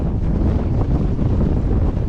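Strong wind gusting at around 25 knots buffets a small Welsford Penguin sailboat, a steady loud roar of wind across the microphone with rushing water beneath, no voices.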